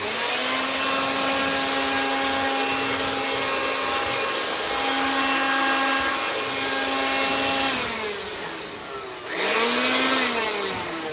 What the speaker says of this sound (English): Let's get the blower.